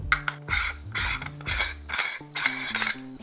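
Cheap Wish.com lens attachment being screwed onto the front of a camera lens, a quick run of close ratcheting clicks and grinding twists in short bursts, no voices.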